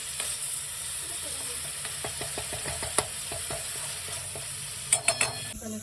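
Ground masala paste fries in a pan of chicken curry, sizzling steadily while a spoon stirs and scrapes in a quick run of light clicks, with a few sharper knocks near the end.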